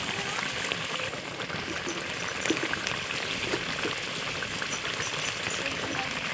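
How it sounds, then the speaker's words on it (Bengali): Curry broth for spicy brinjal boiling in an uncovered pot, a steady loud bubbling and hissing that stays continuous and close throughout, with no speech. "বন্ধুরা, ঝোল ভালো করে ফুটে গেছে"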